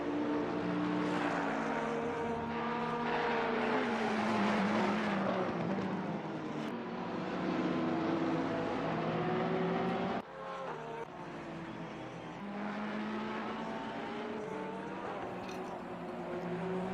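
A Ferrari race car engine in a sim racing game at the Nürburgring GP holds a sustained whine whose pitch rises and falls through gear changes, with a sharp dip around the middle before it climbs again.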